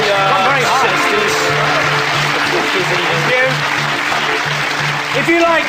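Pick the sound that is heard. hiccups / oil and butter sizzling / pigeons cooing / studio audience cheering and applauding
studio audience cheering and applauding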